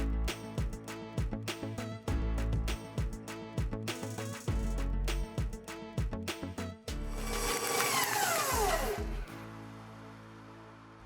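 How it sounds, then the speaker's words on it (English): A stand or hand electric mixer creams cream cheese and sour cream in a bowl with a loud, buzzing whir. The motor starts and stops in short bursts, then runs longer at a higher, rising pitch. "with a stand mixer or a hand mixer, we're going to begin creaming our 16 ounces of cream cheese"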